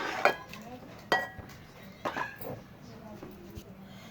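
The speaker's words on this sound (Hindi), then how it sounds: "अब हम ये टमाटर बाउल में डाल लेंगे।" Chopped tomatoes for an egg and tomato omelette tip into a bowl in a home kitchen, giving three separate soft thuds and clinks against the bowl, spaced about a second apart, with faint background noise between.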